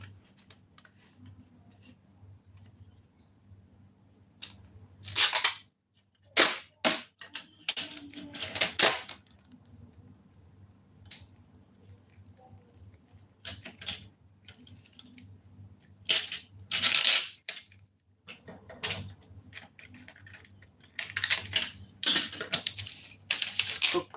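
Scissors cutting dress fabric for a long sleeve princess dart dress, a series of crisp snips and rustles arriving in irregular bursts with quiet pauses between, close by and without talking.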